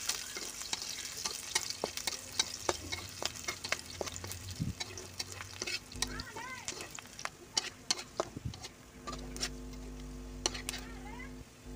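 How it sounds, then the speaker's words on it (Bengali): Chopped onions go into half-fried garlic in hot oil in a wok for a tilapia fish bhorta, giving a sizzle with frequent sharp spatula scrapes and clinks, close up, with faint voices in the background. "রসুনগুলো অর্ধেক ভাজা হয়ে গেলে তারপর পেঁয়াজ কুচিগুলো দিয়ে দিবেন।"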